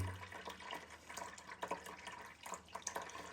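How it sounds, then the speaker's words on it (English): Water draining and dripping from a Kinetico water softener pre-filter, a soft steady trickle with faint splashes and small clicks, quiet and close, no talking. "now you can see that water coming down out of there"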